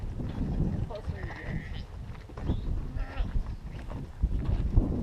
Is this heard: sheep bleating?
yes